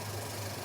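A tapping machine cutting threads in a workshop, giving a steady low mechanical hum with constant whirring, even and close throughout.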